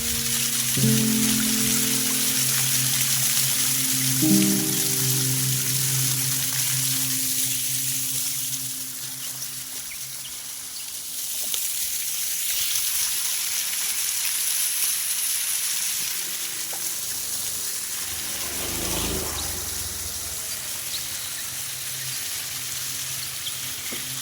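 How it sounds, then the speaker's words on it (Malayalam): Stream water from the forested hills of Thekke Malampuzha rushing over rocks, a continuous broad hiss and splash heard nearby, with some faint tonal sounds early on and no talk. "വെള്ളം പാറക്കെട്ടുകളിൽ തട്ടിയൊലിച്ച് ഒരു ചുറ്റുപാടിലൊരു സംഗീതം പോലെയാണ് കേട്ടോ വരുന്നത്"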